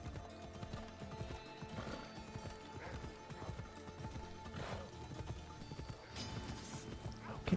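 Horse hooves clip-clop in a steady, galloping rhythm during Assassin's Creed gameplay amid a war scene, with a brief whinny and background game ambience, fairly close and continuous.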